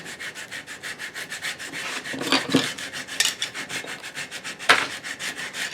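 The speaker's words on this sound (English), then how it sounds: "Use the sanding block and stay on a nice straight line." A sanding block rubs back and forth along a wooden Pinewood Derby car in quick, even strokes, close and fairly loud. There are a few sharper scrapes partway through and no talking.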